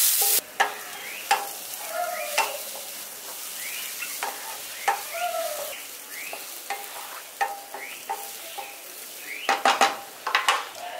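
Carrots lightly frying in ghee in a pan, a low sizzle punctuated by repeated spatula scrapes and metallic clinks against the pot, close and with no speech.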